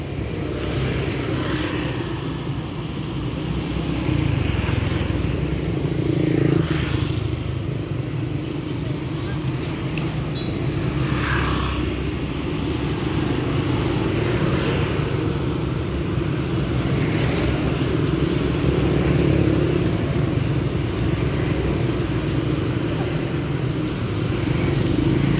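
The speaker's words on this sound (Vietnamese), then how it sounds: "cho nên ra xe cộ lưu thông rất là đông đúc" Steady traffic of cars and motorbikes in front of Tra Vinh General Hospital, on a main road leading to Tra Vinh market, Vietnam, a continuous rumble with engines swelling past, while someone talks over it throughout.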